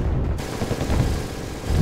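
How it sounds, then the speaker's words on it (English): Supply trucks blowing up in a giant fireball in the strategy game Wargame, a loud, rumbling explosion that rolls on with crackling, gunfire-like bursts throughout. "Supply trucks explode in a giant fireball."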